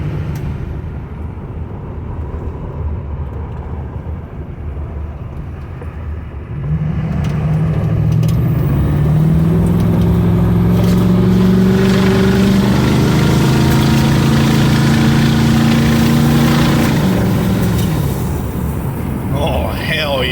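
A car idles with a low rumble, then the engine rises into a louder, heavier drone with revs climbing and falling as it pulls away through a residential area.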